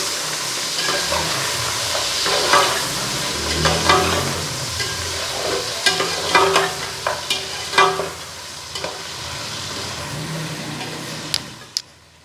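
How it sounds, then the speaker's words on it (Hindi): Beef sizzles and fries in a pot while it is stirred, with scraping clinks of a utensil against the metal, close and steady. "अब डाल दूँगी मैं ये गोश्त और अच्छी तरह से भून लूँगी।"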